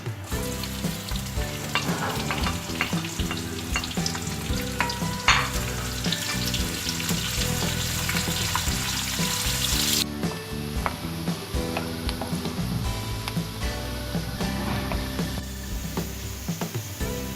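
A steady, loud sizzle of onions frying in hot oil with cumin, stirring scrapes through the pan and no talking.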